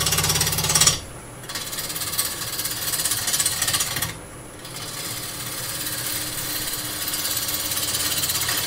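A wood lathe turning a plate at about 1000 RPM runs with a loud, continuous chattering whir as the cutting tool bites into the wood, dropping off briefly twice as the cut lifts before resuming.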